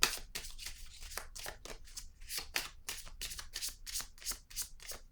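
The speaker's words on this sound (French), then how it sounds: "Je vais piger une autre carte." Cards riffle and slide off a deck as one is drawn, a run of quick crisp papery flicks and soft shuffles close to the microphone, with no talking.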